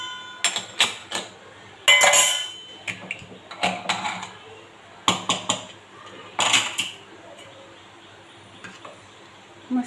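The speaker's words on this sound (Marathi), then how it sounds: "आपण कुकर उघडून बघूया." A pressure cooker of spinach and lentils, just done after three whistles, is opened in a home kitchen with a series of close metallic clinks, clatters and knocks from the lid and utensils, separated by short quiet gaps.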